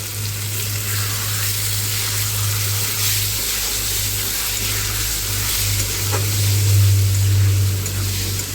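Fish curry masala with potatoes sizzles and fries in hot oil in a village-style Bengali kitchen, giving a steady close crackle with a low background hum and no talk.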